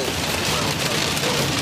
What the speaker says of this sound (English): Get out of the hail.